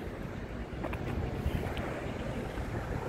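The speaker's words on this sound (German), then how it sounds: "Und hier haben wir das Meer." Wind buffets the microphone on a beach by the sea, a steady rough rush with soft breaking waves underneath, faint and continuous with no voices.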